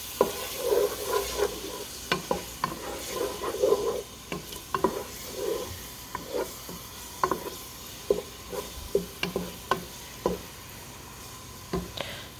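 Rice and beans with tomato sauce being stirred in a sizzling pot, a steady frying hiss broken by repeated scraping strokes of a spoon against the pot, close and fairly quiet.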